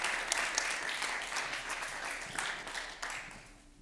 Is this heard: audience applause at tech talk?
yes